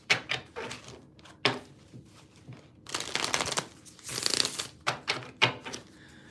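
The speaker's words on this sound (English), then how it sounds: "These cards was not just shuffling like this." Tarot cards being shuffled by hand, with several bursts of rapid riffling and flapping card sounds between quieter pauses, close and crisp.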